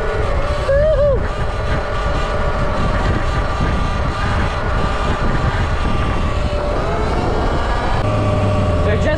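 An E Ride Pro SS electric dirt bike ridden hard and lifted into a wheelie, its motor whine rising and sweeping in pitch over steady loud wind rush, with voices talking over it.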